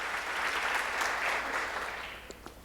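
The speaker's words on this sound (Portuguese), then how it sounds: "Aplauda o Senhor Jesus por isso." A church congregation applauds during a Portuguese-language sermon, a dense, sustained patter of many hands that gradually thins and fades toward the end.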